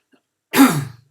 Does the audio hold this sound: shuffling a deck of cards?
no